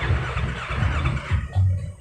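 A Yamaha R25 motorcycle with an added smart-key alarm cranks on its starter without catching, a short run of low, close, chugging turnover pulses ending in a brief whine.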